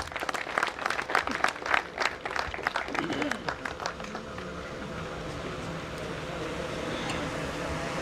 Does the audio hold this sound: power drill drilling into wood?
no